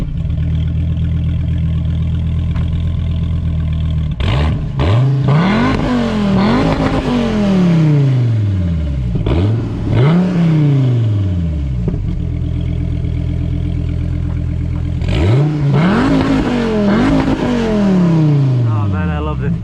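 A Dodge Viper ACR sports car revs loudly and close up in three separate bursts, each rising and falling in pitch over a steady idle rumble.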